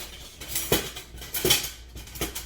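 A metal spoon clinks against a mixing bowl during pastry and dessert preparation, giving three separate bright knocks roughly three-quarters of a second apart, close and fairly clear, with no talk over them.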